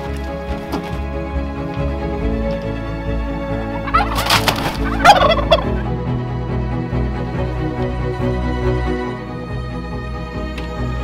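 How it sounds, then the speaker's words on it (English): Turkeys gobbling on a farm in snowy weather, a burst of loud gobbles around the middle rising over steady background farmyard noise, with no talk. "Turkeys"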